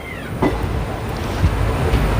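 A train pulls into Naihati Junction station, a steady close rumble of wheels and carriage noise with a few sharper clanks and a faint high squeal near the start.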